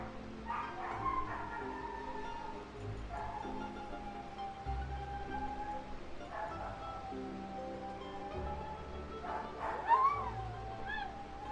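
Dogs yip, whimper and bark near and fairly softly in a house, the high whines repeating over a low background of game music.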